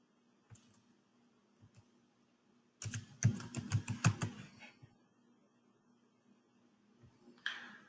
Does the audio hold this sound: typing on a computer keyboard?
yes